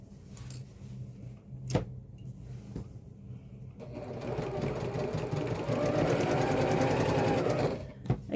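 A heavy duty sewing machine stitches a quarter-inch seam down the side of a messenger bag pocket through soft and stable foam; a steady mechanical whir runs close and loud after a few quieter thumps.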